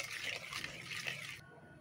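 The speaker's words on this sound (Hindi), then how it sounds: "ये देखिए उबाल आ गया है" Soy sauce and green chilli liquid comes to a boil in a pan for a soyabean chilli dish, giving a steady bubbling, hissing wash that cuts off abruptly near the end, with no voices.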